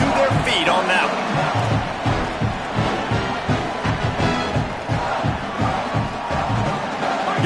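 A stadium crowd roars after a punt return in a college football video game, New Mexico at Troy. The cheering stays continuous under a commentator's voice, which dominates.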